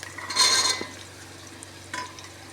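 Green peas dropped into a pan of fried ingredients for paneer matar pulao and stirred: a brief scraping, rattling burst, then a quieter second stir against a faint low background hum.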